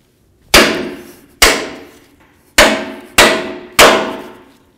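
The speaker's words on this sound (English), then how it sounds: "I'm going to take my hammer and I'm going to bonk it right along here" Five loud, ringing hammer blows on the steering knuckle of a 1998-2002 Honda Accord, struck to free the front lower ball joint. Each sharp metallic clang decays slowly, spaced unevenly about a second apart, close up with no talk.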